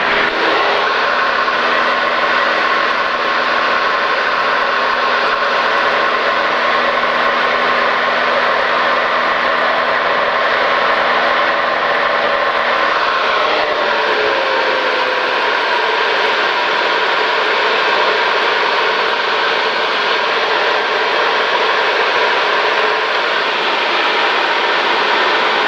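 Cessna light airplane engine droning steadily from inside the cockpit during a touch and go on runway 35, loud and constant, then the pitch and power drop partway through.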